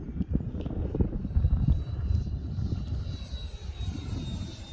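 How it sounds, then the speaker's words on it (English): A 95-inch FunScale F/A-18C radio-controlled jet flies past, its electric ducted fan giving a loud, continuous whoosh with a rising whine, carried on gusty wind noise and heard without speech. "It's got the jet fan whoosh sound."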